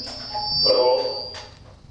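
A steady, high electronic ringing tone runs throughout while a person talks over it.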